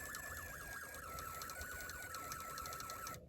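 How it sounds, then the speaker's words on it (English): A Snap Circuits music integrated circuit plays through a motor as a thin, buzzy electronic tune layered over a warbling siren-like tone, steady throughout and then cutting off abruptly at the end. "You can also hear music playing through the motor"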